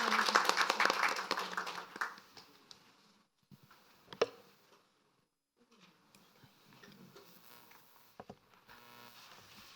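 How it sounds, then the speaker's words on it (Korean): An audience at a parent forum with the education minister claps to welcome her, loud at first and then thinning to scattered claps before falling quiet, followed by faint room noise and occasional isolated claps. "여러분 따뜻한 박수로 맞아주시면 감사하겠습니다"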